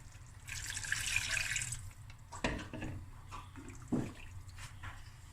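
Water pours into a pot, running and splashing briefly, with a broad hiss that fades after a couple of seconds, followed by a few clinks and faint kitchen noises while cooking a seafood dish.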